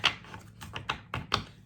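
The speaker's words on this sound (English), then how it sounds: "One more shuffle, we'll pick a card." Deck of angel cards being shuffled by hand, giving a quick series of four or five soft, papery riffles and taps, close and quiet with short pauses between them.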